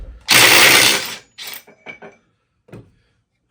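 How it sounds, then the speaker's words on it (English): A Dewalt 20V DCF850 brushless impact driver undoing a grade 8 bolt: one loud, close hammering burst of about a second, followed by several short, quieter bursts with pauses between them. "I was able to undo a bolt at 150 foot-pounds"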